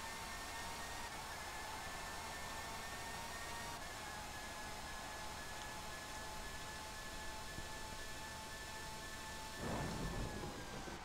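Steady rain with a low thunder rumble in the Formula One 97 racing video game, a continuous broadband hiss with faint engine tones and a brief louder swell near the end.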